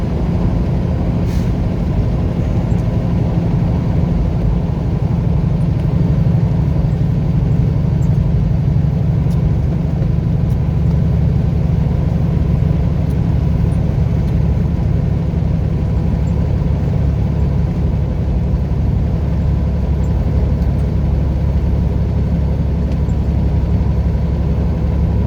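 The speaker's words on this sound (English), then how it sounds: "this truck, it's making some interesting noises. Like, this is the heaviest load that we put on this truck" A heavily loaded truck engine droning steadily while driving on a long haul, with a loud, constant low rumble and no pauses throughout.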